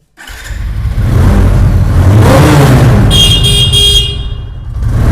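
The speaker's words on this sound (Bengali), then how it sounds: "চাবি লাগানো আছে মানে আমি চালাবো দেখো স্টার্ট হয় কি দেখো" A second-hand motorbike engine starts up with a loud burst and runs steadily, revving near the microphone for several seconds before easing slightly, with no talk over it.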